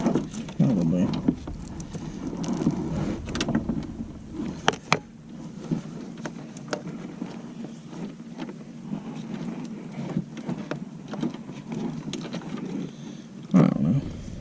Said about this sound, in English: I'm going to rinse this off and probably do it again